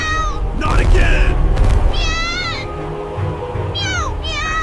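A voice imitates a cat, giving several drawn-out, wavering meows in an animated cat story, heard close and loud over a low rumbling score, with spoken lines in between.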